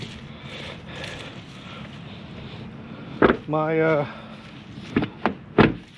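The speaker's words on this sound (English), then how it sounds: "hold on, let me shut the door." A 2014 Chevrolet Silverado truck door is pushed shut outdoors in a driveway, giving a sharp close thump followed by a short rattling slide and a few more knocks, with someone speaking quietly around it.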